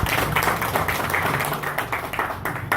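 Dense, steady applause from a conference audience at an Association des Universitaires du Nord event, loud and close, filling the whole stretch with rapid overlapping claps.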